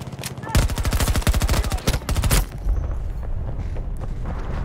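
Rapid submachine gun bursts in Battlefield 2042, a fast run of closely spaced loud shots followed by a few heavier booms, then rumbling battlefield noise trailing off.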